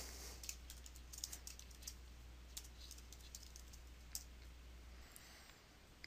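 Soft, quick keystrokes and clicks on a computer keyboard while entering text into a spreadsheet cell, a faint, close-up patter of single taps over a low steady hum.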